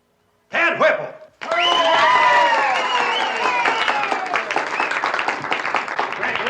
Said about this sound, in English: judging from your applause, the winner is Tad Whipple